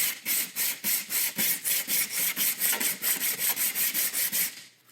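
A J-B Weld epoxy block is rubbed over lighter grit sandpaper in quick, regular back-and-forth strokes, about fifteen close, rhythmic scratchy swishes that slow and fade at the end.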